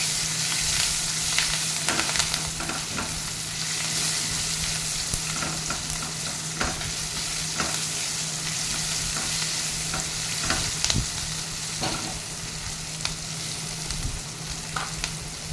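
Onions and green chillies sizzle in hot oil in a pan, a steady, close frying hiss broken by occasional stirring scrapes, with no one talking.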